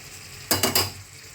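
Potatoes and spices frying for ghugni, three quick close bursts of stirring and sizzling in a pan against a quiet background, with no talking.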